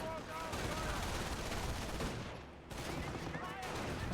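Distant rapid machine-gun bursts and rocket fire from Nebelwerfers crackle continuously in a Company of Heroes battle, dense and rumbling with a brief lull midway, and a voice talks faintly underneath.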